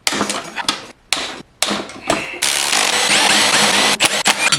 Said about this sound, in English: there's some Torx bolts inside of here. Let's see if I can get these off.